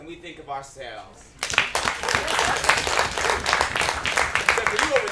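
At a spoken word and music show, a short spoken passage gives way to a burst of audience clapping that stays strong and steady to the end.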